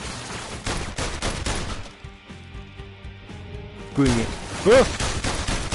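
Rapid bursts of enemy gunfire in the PS VR Worlds game, dense volleys at the start and again near the end around a quieter stretch, with a player talking over them.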